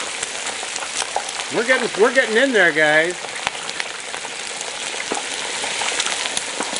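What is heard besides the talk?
turkey being lowered into hot frying oil, sizzling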